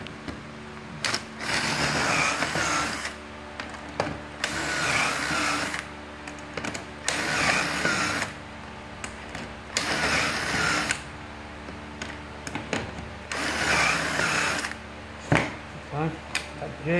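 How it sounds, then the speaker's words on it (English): A power drill whirs in repeated bursts of a few seconds each, drilling holes through a jig, separated by short pauses, close and fairly loud. "And we're just drilling on out."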